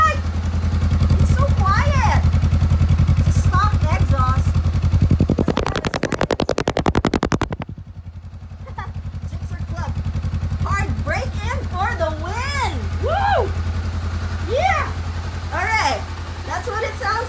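A Honda CBR500R motorcycle engine fires up and settles into a steady, loud idle close by, with a brief harsh burst partway through, while people talk excitedly over the running engine.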